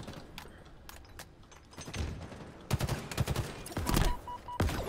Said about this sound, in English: Shooting my guy here.